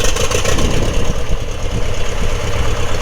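A Piper Cub aircraft engine idles just after startup, a loud, steady, close rumble with a rough, uneven throb and no talking over it.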